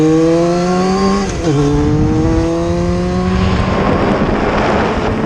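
A motorcycle on its first ride of the year runs through corners, the engine droning loud and near, its pitch dropping as the rider eases off and then climbing again. No one speaks.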